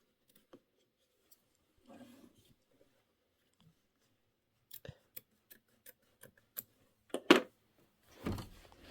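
Scissors snip through quilt fabric in a short run of crisp, separate cuts, close and clear against near silence, followed by a louder rustle of the material being handled.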